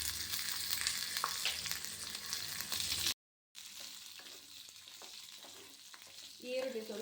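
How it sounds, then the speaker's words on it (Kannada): Onions sizzling and frying in oil for a mutton chops masala, a steady crackling hiss that is briefly cut off, then returns quieter with occasional stirring. "ಈರುಳ್ಳಿ ಸ್ವಲ್ಪ ಫ್ರೈ ಆಗೋ ತನಕ ಕೆಂಪಗಾಗಬೇಕು"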